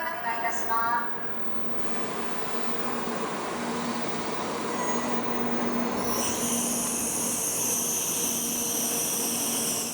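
A Hikari express train on the Tokaido Shinkansen rolls into Maibara station with steady rumbling and high metallic wheel squeal rising toward the end, while a voice speaks Japanese platform announcements over it.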